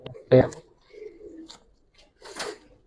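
Old-breed pigeons coo in a few short, soft calls, with brief gaps of quiet between them, close by.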